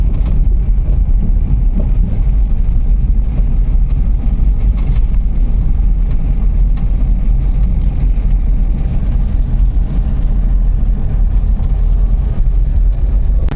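A car creeps along slowly during driving practice, with a steady low engine rumble and road noise heard from inside the cabin, continuous and unchanging.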